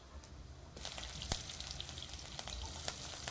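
Ginger garlic paste sizzles and crackles steadily in a hot pan of oil for egg fried rice, with a sharp clink of a spoon partway through and the spoon scraping now and then. No one speaks.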